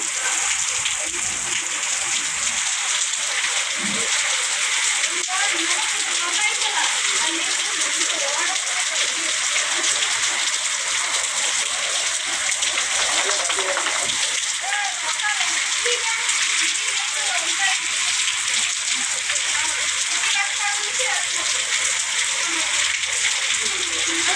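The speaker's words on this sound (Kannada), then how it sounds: "ನೋಡಿ ಮಳೆ ಎಷ್ಟು ಜೋರಾಗಿ ಬರ್ತಿದೆ ನಮ್ಮೂರಲ್ಲಿ" Heavy rain pours down in a village, a dense, steady hiss of water that fills the whole stretch without letup.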